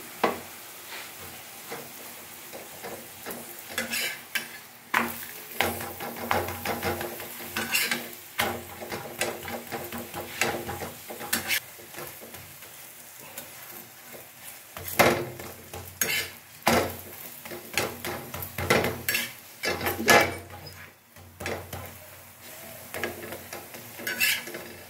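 Muli (radish) paratha frying in ghee on a pan: a continuous low sizzle broken by repeated scraping and clanking of a spatula against the pan, close and busy, without speech.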